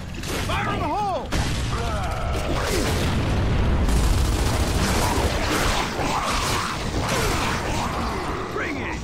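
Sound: grenade explosion in Gears of War 2 video game

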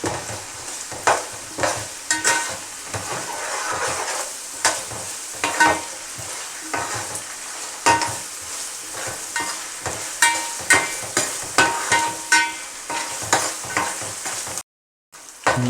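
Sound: ginger garlic paste and onion frying in a pan

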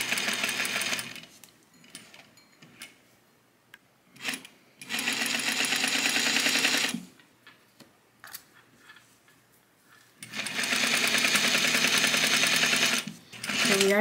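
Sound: sewing machine stitching jersey knit dress neckline

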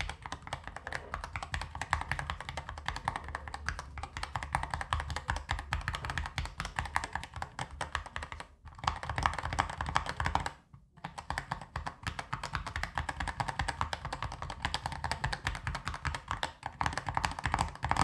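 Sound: typing on mechanical keyboard with custom keycaps

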